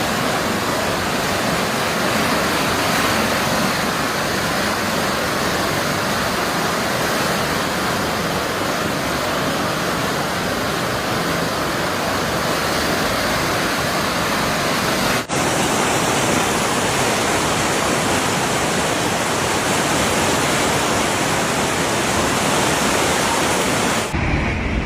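Floodwater from overflowing rivers in Bulgaria rushes in a constant loud broadband roar, unbroken and close, with no voices.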